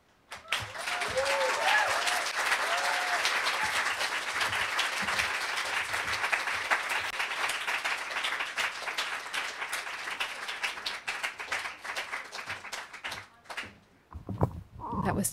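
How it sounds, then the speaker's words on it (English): Sustained applause from the crowd at a literary reading fills most of the stretch, dense and even, then thins into scattered claps and quiet near the end. "Let's give it another round of applause for both of them"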